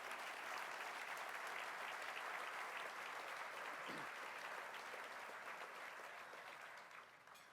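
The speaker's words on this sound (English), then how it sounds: "Please, let's give them a great big round of applause." A large audience applauds at a Tampa Bay business Hall of Fame ceremony, with sustained, dense clapping that holds steady for several seconds before thinning slightly at the end.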